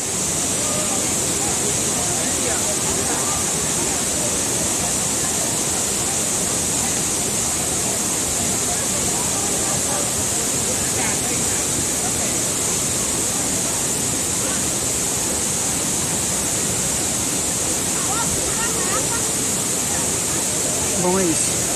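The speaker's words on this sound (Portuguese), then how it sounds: "Cachoeira dos Pretos." Cachoeira dos Pretos, a waterfall in Joanópolis, São Paulo, roars with a constant, dense rush of falling water heard from a short distance, unbroken across the whole stretch.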